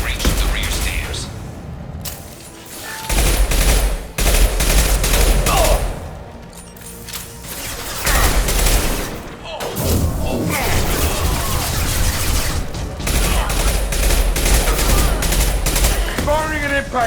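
Rapid bursts of gunfire and cracking impacts in Mass Effect 2 Legendary Edition combat, loud and close, broken by short pauses, with game effects and voices mixed in.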